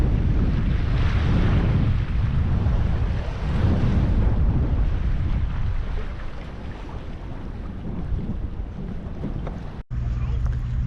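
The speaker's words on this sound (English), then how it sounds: "We got some gnarly wind coming in." Strong wind buffets the microphone with a loud, constant roar while waves wash against a sailboat under way on Japan's Seto Inland Sea, easing slightly toward the end.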